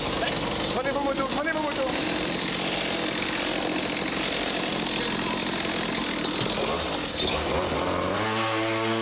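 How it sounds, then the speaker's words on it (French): Motorcycles revving and riding on a studio set, a loud continuous buzzing engine roar with rising and falling pitch, heard over talking and a noisy crowd. "Prenez vos motos."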